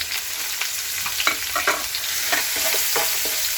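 Curry leaves and ground black pepper frying in a pan for a Kerala-style cowpea stir-fry, a loud continuous sizzle broken by repeated scraping stirs and sharp crackles.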